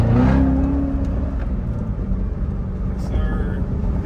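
A Corvette C7 Z06 engine revs in first gear with a loud, sustained roar that rises briefly at the start and then holds steady, while a voice talks over it.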